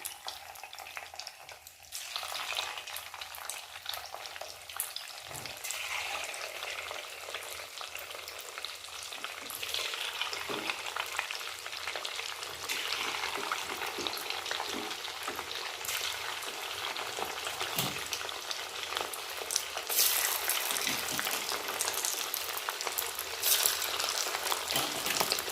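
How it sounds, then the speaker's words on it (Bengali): Chicken pieces for chilli chicken frying in hot oil, a continuous dense crackling sizzle that builds slightly louder over the stretch, with occasional stirring clatter and no talk. "দেখো বন্ধুরা, এই যে ওইগুলো ভাজা হয়েছে, আরও এই যে এগুলো ভাজতে দিয়ে দিচ্ছি।"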